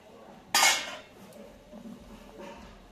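A metal lid lifts off a pot of simmering rasmalai with one sharp clink up close, then faint clatter and a soft second knock as it is set aside.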